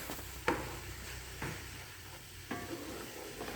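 Food browning in a hot pan with a continuous sizzle, interrupted by a few sharp scraping stirs of a utensil against the pan.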